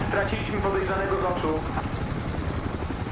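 A helicopter in the Battlefield Hardline video game thrums steadily through the mix, loud and continuous, with someone talking over it for the first half before the rotor drone carries on alone.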